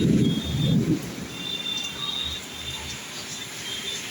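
Hailstones and heavy rain in a kalbaishakhi storm in Bhubaneswar form a dense, steady hiss with a rumbling low burst at the start that eases into a continuous downpour, with no voices.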